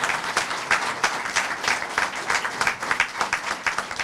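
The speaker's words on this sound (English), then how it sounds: "Give me a round of applause." A crowd at a POW/MIA Remembrance Ceremony held by the Fall River War Veterans' Council claps in dense, continuous applause that stays fairly loud and even throughout.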